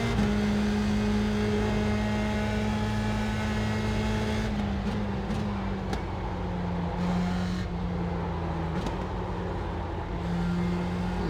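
A USF 2000 open-wheel race car engine drones steadily on track at Lime Rock Park, heard close from onboard, its pitch holding then dipping slightly under braking with shifts and rattles.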